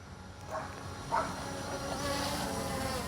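A steady, thin buzzing hum of a Ruko U11 Pro drone's small propellers runs throughout, fairly quiet and even, with a couple of brief louder swells.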